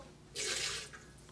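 A 2004 Pinotage red wine is poured into a glass in one brief, soft, splashing trickle lasting about half a second, quiet and close with no talking.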